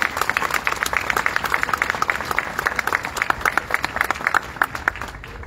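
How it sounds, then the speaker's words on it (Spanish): Audience applause at a 60th anniversary ceremony of the Instituto Juan XXIII, a moderate crowd clapping with distinct individual claps audible in a steady, slightly uneven rhythm throughout. "vamos a aplaudir esta iniciativa y esta participación"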